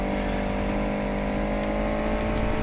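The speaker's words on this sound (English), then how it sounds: "the car does look and sound very beat up" A rough, rattling beat-up car engine in the video game Need for Speed Heat drones steadily at a constant pitch, loud and close, with no pauses.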